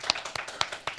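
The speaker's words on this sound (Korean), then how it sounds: "박수로 맞아주세요." A few scattered claps from an audience welcoming a high-school student speaker onto the stage at a STEPx conference in Daejeon, sharp and close, spaced irregularly across about a second.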